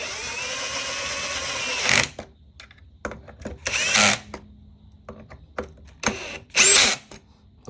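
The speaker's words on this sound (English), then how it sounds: "All right, so we got to get all these tightened down now." Power drill driving and tightening bolts while reassembling an X-Way scooter during a tire change: a sustained whir for two seconds, then several short, loud bursts with brief pauses between, close to the mic, no talk.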